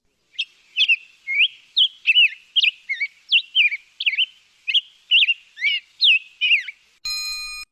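Whistly robin song recorded at Lake Tahoe, a steady run of about a dozen clear, warbling phrases with short pauses between them. The bird is fairly near and sings alone, and a brief tonal electronic tone sounds at the very end.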